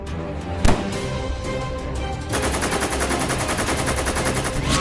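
Automatic gunfire erupts in a dinosaur movie scene: a single loud shot, then a sustained rapid burst of machine-gun fire over a rumbling soundtrack.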